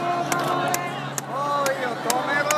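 A large crowd at an anti-nuclear protest in Tokyo forms a dense, distant background of voices and chanting, broken by repeated loud percussive beats, with someone talking over it.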